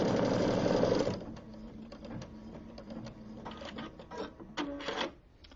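A sewing machine stitches a tack-down line on a quilt block, a fast mechanical whirr at first, then slower uneven clattering bursts as the stitching stops and starts, with no voices.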